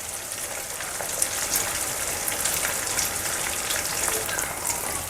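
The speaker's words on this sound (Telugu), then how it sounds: "మొత్తం ఫిషెస్ మీడియం ఫ్లేమ్లో బాగా కుక్ చేసుకున్నాము" Fish fry in oil over a medium flame, a dense, continuous crackle and sizzle with fine spitting pops, close and even throughout, with no talking.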